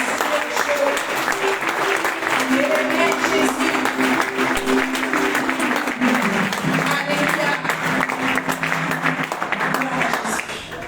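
A church congregation claps and cheers in praise at a worship service, sustained loud applause filling the room for several seconds with voices rising over it before gradually easing.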